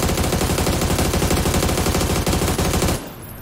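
A loud, unbroken burst of rapid automatic fire from an AUG rifle in the video game PUBG for about three seconds, then it cuts off, leaving faint ringing.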